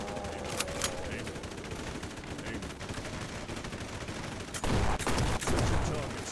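Gunfire in The Red Solstice 2: Survivors, a squad fighting aliens: a steady, dense rattle of automatic weapons throughout, with heavier, louder bursts in the last couple of seconds.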